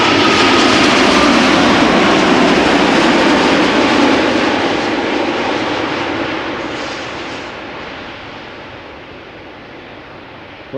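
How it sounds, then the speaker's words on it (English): A KLM Boeing 787-10 Dreamliner arriving at Schiphol from Las Vegas passes with a loud, broad jet roar that gradually recedes and quiets toward the end. "787-10 Dreamliner arriving from Las Vegas"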